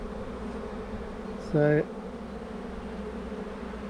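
Honeybees hum steadily in an open hive during a queen search, with a brief, brighter close-up buzz as one bee passes near; a voice speaks briefly.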